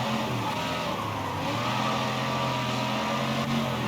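Car pulling away in the video game Mafia III, a steady engine drone holding at even loudness throughout, close and continuous with no voices over it.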